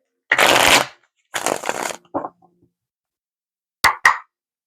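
Tarot cards shuffled by hand in several short riffling bursts, close and crisp, followed by a couple of quick taps.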